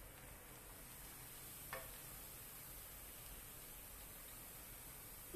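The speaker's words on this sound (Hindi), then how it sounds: "इसी तरीके से सारे सेब को हम फ्राई कर लेंगे" Sev, gram flour noodles, frying in hot oil, a steady soft sizzle with a faint hiss throughout and one brief tap, with no voices.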